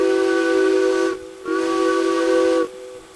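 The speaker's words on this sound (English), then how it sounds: "That's what the whistle says" A steam locomotive whistle in the train game Derail Valley sounds two long, loud, steady blasts separated by a brief pause, with a soft hiss underneath.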